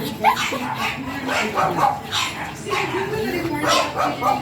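A small Pomeranian dog lets out repeated high yips and barks in short bursts, close by, with people talking throughout.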